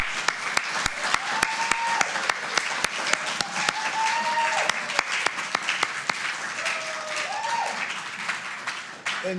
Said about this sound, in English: a big round of applause for Reverend Dr. Keith for all that he has done